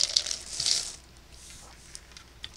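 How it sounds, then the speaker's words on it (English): Beads tossed across a table for a faux gumball machine craft, a short bright scattering rattle at the start that quickly settles into faint clicks, close and alone. "We're going to throw some beads all over the table."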